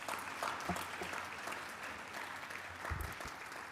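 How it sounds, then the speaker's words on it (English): Audience at an education summit on graduation applauds steadily for a few seconds, a dense, even wash of clapping from a full room with no talking over it. "Can we give her another round of applause?"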